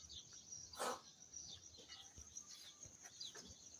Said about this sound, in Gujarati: ચકલીના કલકલાટ